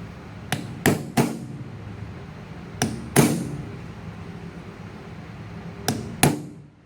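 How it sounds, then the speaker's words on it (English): Sharp hammer strikes in short bursts of two or three, close and ringing, setting hobnails into a leather heel with a drift pin, with pauses between groups. "I'm going to use a drift pin, set these two guys in there."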